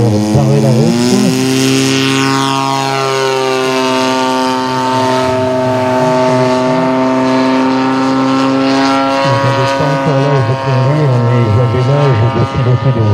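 A radio-controlled model warplane's propeller engine drones loudly throughout at a flying display, its pitch holding level with a slight shift near the end, under a voice speaking French.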